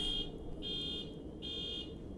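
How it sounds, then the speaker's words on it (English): A car alarm sounds in the distance as a steady high-pitched electronic tone, pulsing on and off in long repeated beeps over a low background hiss. "Oh, is that a car alarm on your end?"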